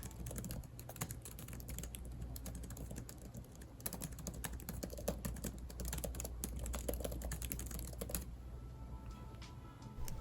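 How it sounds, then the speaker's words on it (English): Rapid, soft clicking of keys being typed on a Dell XPS 13 (9300) laptop keyboard, a continuous quiet patter of keystrokes close by. "I actually really enjoy typing on this computer"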